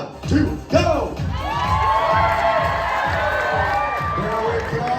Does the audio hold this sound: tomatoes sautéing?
no